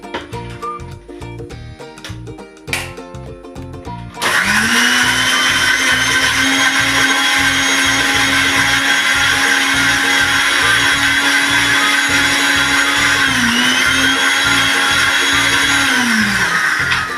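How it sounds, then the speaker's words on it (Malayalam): A mixer grinder grinds green chicken masala paste with added water, starting after a few seconds of quieter kitchen clatter into a loud, steady motor whine and churning that runs unbroken to the end, with a slight dip in pitch near the end. "നമുക്കിത് മഷി പോലെ അരച്ചെടുക്കാം"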